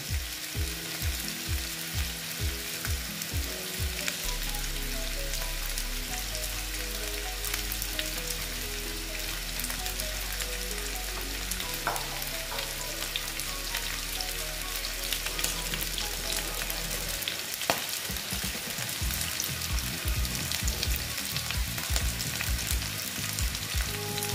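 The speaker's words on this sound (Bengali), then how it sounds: "আমি একসঙ্গে ভেজে নিচ্ছি।" Afghani chicken pieces fry in a pan with a close, steady sizzle and crackle that continues for the whole stretch, broken by occasional sharp pops and light spatter, with no voices.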